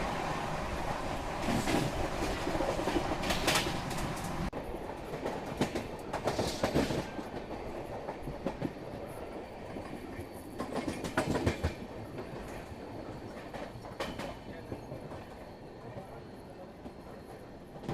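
A Rajdhani Express runs at 130 km/h between Nashik and Manmad: a steady, continuous rumble of the train with repeated rhythmic clattering bursts and wheel noise throughout, heard from inside, with faint voices at times.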